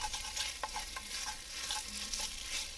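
Beef chunks browning in a Dutch oven for a stout stew, a steady close sizzle with scraping and stirring knocks throughout, no voices.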